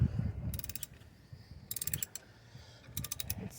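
A ratchet clicks in three short bursts while working on a Ford Fiesta MK6 TDCi front suspension, close up, with a low scraping and knocking underneath and no talk.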